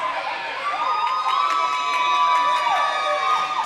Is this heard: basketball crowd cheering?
yes